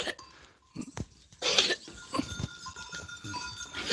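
Goats, including young kids, in a rural field: a few short, rough bleats and coughing calls sound from close by among scattered animal and outdoor noise.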